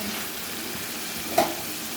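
Chicken pieces browning in oil in a covered pot for a home-style chicken biryani, giving a steady, fairly quiet sizzle with one brief soft clack near the end.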